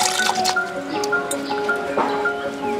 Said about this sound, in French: Je vais verser. Nous avons au minimum 3 litres d'eau dans la marmite.